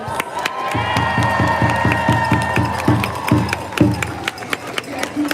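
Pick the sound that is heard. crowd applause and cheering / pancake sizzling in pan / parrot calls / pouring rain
crowd applause and cheering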